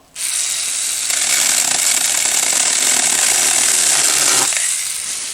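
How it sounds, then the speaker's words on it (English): A chainsaw roars loudly and steadily for about four seconds as it cuts wood, starting abruptly and then winding down. "I wanted to follow up on this chainsaw."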